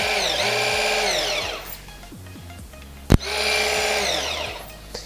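A HOMECLUB HB-6020KI-GS blender with whisk attachment whirs loudly, winds down, stops with a sharp click, then starts up and whirs steadily again.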